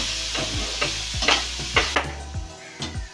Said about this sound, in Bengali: এখন তিন থেকে চার মিনিট সময় ধরে ভাজা ভাজা করে নিতে হবে যতক্ষণ না আলুগুলো সেদ্ধ হয়ে আসে